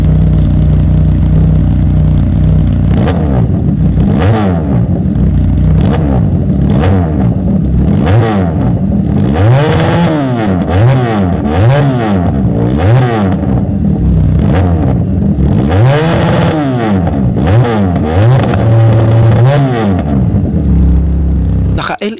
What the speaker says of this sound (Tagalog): kaya pakinggan nyo yung kanyang sound check guys.